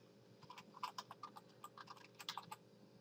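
Faint computer keyboard typing as a search goes into Google, a quick run of light key clicks in uneven bursts over a low steady hum.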